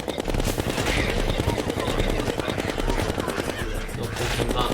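Rapid automatic gunfire from the video game Terraria, a dense, continuous rattle of shots in fast even rhythm, loud and unbroken throughout.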